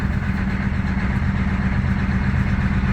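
A Ford 6.9 IDI diesel engine idles in a steady, rough, low rumble close by, running continuously with no talk over it.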